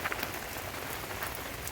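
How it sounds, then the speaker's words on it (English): Heavy rain pours down on a road in Alaska, a dense, steady hiss of drops close by with no voices. "this rain, which was predicted mildly, has made just rivers in the road"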